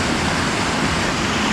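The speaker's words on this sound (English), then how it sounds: "onto that horseshoe type waterfall" A horseshoe-shaped waterfall roars as a dense, steady wash of falling water, loud and unbroken with no voices over it.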